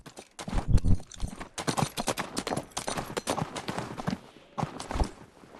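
Horse hooves clip-clopping in a video game, a crystalline horse ridden through a fantasy dale: a run of sharp, close, irregular hoof strikes with brief pauses between bursts, loud and dry.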